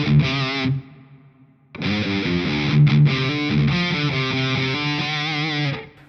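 Heavily distorted electric guitar at full gain through Victory V1 pedals plays sustained chords, cutting off briefly before returning loud and dense, with no voices present.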